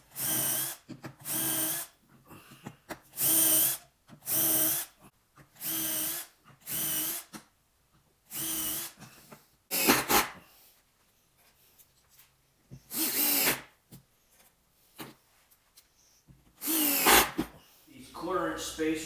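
A power drill mounts casters onto a shop-made mobile tool base, sounding in repeated loud bursts of whirring with short pauses between, close up and with no talking.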